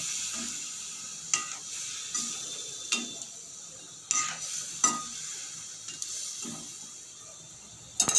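Chicken curry (chicken jhol) in a pot sizzles softly after a little water is added to the oil-released spice mix, while a spoon stirs and scrapes at irregular intervals, producing sharp clinks over the low, steady hiss.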